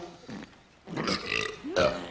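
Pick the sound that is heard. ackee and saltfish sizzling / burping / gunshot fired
burping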